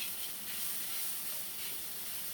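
Shiitake mushroom namul stir-frying in a pan, a steady soft sizzle and hiss that continues evenly throughout with no talking.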